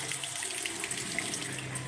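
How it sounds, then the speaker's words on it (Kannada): Water runs from a tap at a washbasin in a steady, even rushing splash, close and fairly loud, continuing unbroken throughout with no talk. "ನಾವು ಈ ರೀತಿ ಟ್ಯಾಪ್ ಮಾಡಿದ್ರೆ ನೀರು ಬರುತ್ತೆ"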